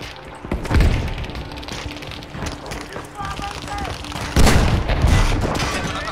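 Tank battle in Battlefield 5, heavy booms and bursts of gunfire over a rumbling mix, with two strong blasts standing out and a voice talking over the action.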